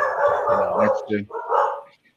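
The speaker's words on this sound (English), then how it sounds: "Sorry about my dogs." Dogs bark and yip in the background during a video call, a few short barks breaking in under steady conversation.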